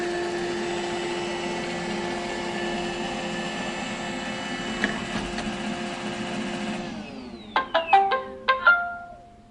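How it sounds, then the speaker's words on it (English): A robot vacuum cleaner drives back toward its charging base with a steady mechanical whir. The hum cuts off and a few short electronic tones follow near the end. "So the vacuum just shut off, so now it's just trying to get up to its base, it looks like."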